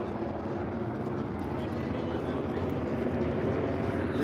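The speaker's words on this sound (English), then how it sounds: "I hear a helicopter circling" A helicopter circling overhead a church parking lot in Los Angeles, its steady rotor thrum droning continuously at moderate distance beneath street ambience.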